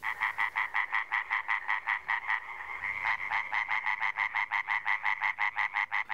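A dense chorus of tree frogs in Denmark, croaking in a steady, rapid pulsing rhythm, loud and close, with no voices.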